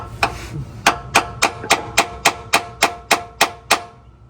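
A hammer strikes metal about a dozen times in a steady rhythm on a Ford F250 6.7L Powerstroke during a fuel filter change, each blow a sharp ringing clank that quickly fades, close and loud.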